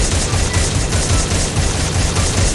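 An M249 machine gun fires in a rapid, continuous burst in the Free Fire zombie mode video game, a dense rattling stream of shots, loud and steady, with no speech.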